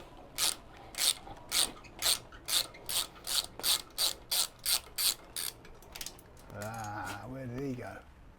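A ratchet clicks rapidly and evenly while undoing a bolt on a Honda Hornet CB600 motorbike engine, about a dozen close, crisp strokes, followed by a brief voice.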